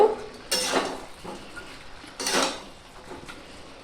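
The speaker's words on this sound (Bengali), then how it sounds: "টমেটো এটাকে এখন আমি একটু নেড়ে ছেড়ে নেব" A spoon scrapes and clinks in a cooking pan as cabbage and tomato are stirred, a few distinct bursts of stirring separated by quieter gaps, close and alone.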